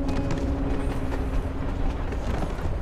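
A moving train in the video game Life Is Strange: Before The Storm gives a steady, dense rumble with faint rhythmic clatter, continuous and fairly close, with no talking.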